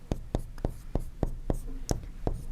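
Chalk or pen tapping and scratching on a board while writing trigonometry notes, a run of about eight sharp, evenly spaced strokes close by, with faint room hum and no talk.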